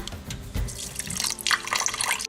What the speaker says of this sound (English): Now we're gonna put just a little bit of chicken broth around the outside.